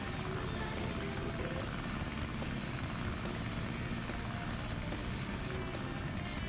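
Tails' Tornado 2 plane in Sonic Adventure's Sky Chase stage, a steady roaring propeller-engine drone, loud and continuous throughout, with small repeated bursts of game effects above it.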